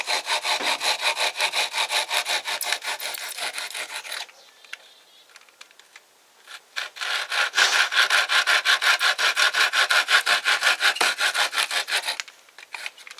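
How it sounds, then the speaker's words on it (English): A saw rasps back and forth through wood, cutting a notch for a bow drill fire board, with steady close strokes, a short pause in the middle, then a second run of rhythmic sawing. "now we're just cutting the notch"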